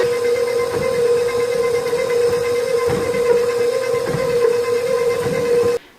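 A stand mixer with a paddle attachment beats banana nut bread batter, giving a loud, steady motor whine with a constant pitch and a rumbling churn beneath it that runs unbroken for almost six seconds, then cuts off abruptly.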